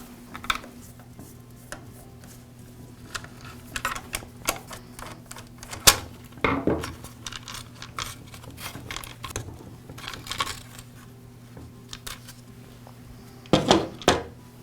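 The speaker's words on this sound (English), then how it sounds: "Now I'll remove the motor housing. It's held in place with 2 screws." Screws are removed from the motor housing of an Echo string trimmer, with small metallic clicks, taps and rattles of tools and parts scattered irregularly over a low steady hum, close and without speech.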